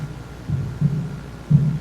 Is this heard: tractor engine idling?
no